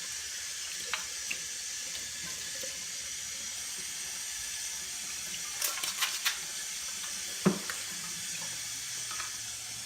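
Water runs steadily from a kitchen sink tap while a Vidalia Chop Wizard is washed in soapy water, with a few soft clinks and knocks of plastic against the basin partway through.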